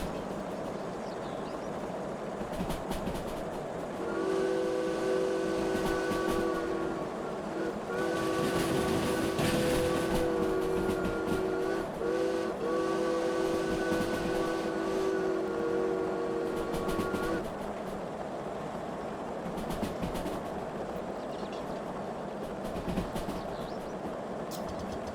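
A 2-8-2 steam locomotive in the video game Derail Valley rumbles along with a long, two-toned whistle blowing for several seconds, steady rolling noise underneath and no talking.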